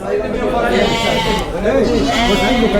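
Sheep and lambs bleating in a crowded livestock market, several overlapping wavering calls up close, under steady chatter of people talking nearby.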